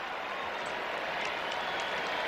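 A home baseball crowd at a Major League game cheering and applauding a player's first big-league hit, a steady broad roar with scattered claps, distant and even throughout.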